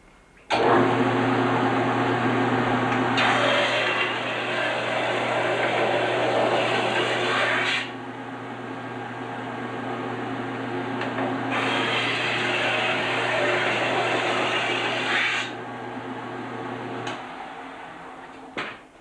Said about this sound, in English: we're going to flat grind it again and then bevel it